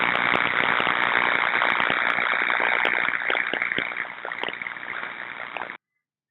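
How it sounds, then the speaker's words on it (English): Electrical tracking in a panel comes through an ultrasound detector as a continuous harsh crackling hiss, loud and steady, that thins out toward the end and then cuts off abruptly. "The ultrasound is going to hear tracking, which sounds like this."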